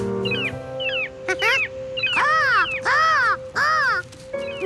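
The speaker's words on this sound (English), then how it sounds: "Well, yeah, seagulls." Seagulls call in a Curious George cartoon, a series of loud, close, squealing cries that rise and fall in quick succession, heard alone.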